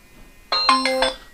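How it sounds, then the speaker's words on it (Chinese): A mobile phone ringing with an incoming call, a short bright electronic chime of a few stacked tones starting abruptly after a quiet moment and lasting about half a second. "他亚妈打电话接还不接？"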